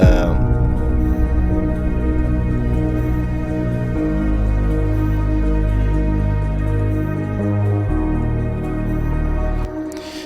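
A processed vocal in a melodic techno track drenched in echoing delay repeats, the sustained tones smearing and trailing into one another over steady musical backing.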